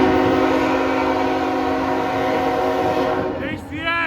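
A KCS manifest and intermodal freight train rolls past close by, its loud steady rumble and strong tonal drone filling the whole stretch, with a brief voice near the end.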